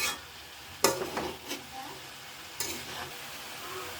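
Chopped flat beans and potatoes fry in a pan, a soft continuous sizzle broken by a few sharp scraping stirs of the spatula, close and moderately quiet.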